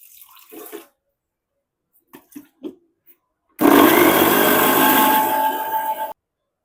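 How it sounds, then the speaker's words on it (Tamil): Kitchen blender grinding dates with a little water into a puree, a loud, close whir lasting a few seconds and then cutting off abruptly, after some faint clicks and handling sounds. "இதை வந்து அரைக்கிறதுக்கு நான் கொஞ்சமாக தண்ணி ஊற்றி அரைச்சிக்க போகிறேன்."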